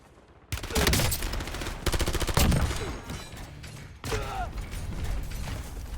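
Loud bursts of rapid gunfire from the video game Warzone, several volleys in quick succession with brief pauses between them and mechanical clatter.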